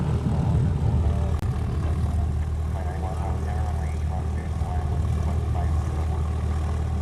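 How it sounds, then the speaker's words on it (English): A Cessna propeller plane runs close by at Honolulu airport, its engine a low, steady throbbing drone with a wavering tone on top, and voices can be heard talking over it. "we got this Cessna making a lot of noise next to us"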